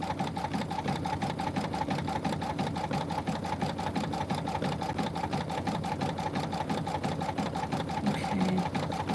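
Sewing machine stitching an embroidered quilt block, a continuous fast mechanical whir with a rapid steady clatter of needle strokes, close and even throughout.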